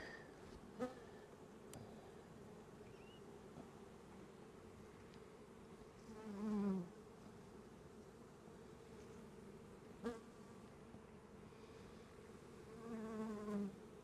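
Soft, steady buzzing of many honey bees sitting on combs close by, with a few louder passes as individual bees fly near, no voices.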